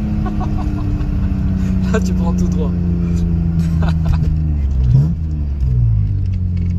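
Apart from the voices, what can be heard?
car engine driving, youngtimer car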